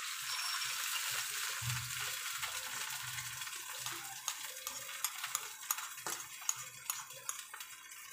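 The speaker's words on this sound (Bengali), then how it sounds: "তো পেঁয়াজটা আমার লাল হয়ে গেছে, তা আমি এখন একটু লিকুইড দুধ দিয়ে দেব।" Liquid milk goes into a pan of onions fried red in ghee, with a soft sizzle and wet bubbling under scraping stirring strokes. Sharper clinks and scrapes of the spoon come in toward the end.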